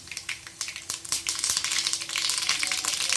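Urad dal dropped into hot oil for tempering a Tamil thin dal kulambu, sizzling and crackling loudly and steadily, building to a dense continuous fry with no talk.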